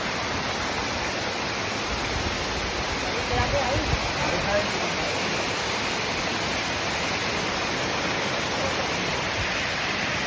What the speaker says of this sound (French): je vous montre la cascade.